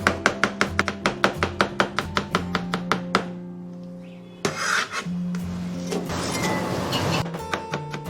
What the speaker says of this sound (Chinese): 刚好家里面还有半根黄瓜，我们给它先切片，然后切成丝